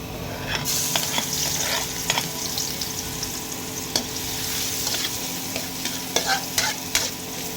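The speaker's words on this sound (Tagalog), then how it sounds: "igisin naman natin na yung bawang" Garlic being sautéed in a pan for pata estofado, with a steady close sizzle of frying and irregular scraping and clinking of a utensil stirring against the pan.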